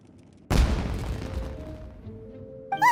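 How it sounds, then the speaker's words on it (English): A firework explodes in the Genshin Impact video game: a sudden loud boom with a crackling tail that slowly fades, followed by faint tonal game sounds. "Huh? Was that an explosion? It sounded like fireworks."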